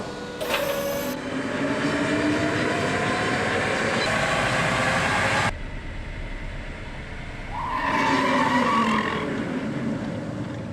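Tata Nexon EV electric car running on a roll and brake test rig, steady whirring mechanical drone with a sharp shift partway, then a rising tonal whine toward the end.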